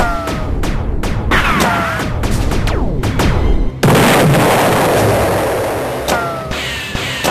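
Gunfire rings out in a rapid series of sharp, loud shots with ringing tails, then a sustained blast of noise and a couple more shots near the end.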